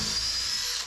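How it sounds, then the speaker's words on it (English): A power drill drives into timber aboard a wooden boat, heard as a brief, close, steady high whine lasting under a second that fades at the end. "I'm having to use one drill for both of these."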